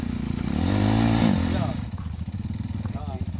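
A trail motorcycle engine runs loud and close, revving up and holding for the first second and a half, then settling into a rough, throbbing idle while people talk nearby.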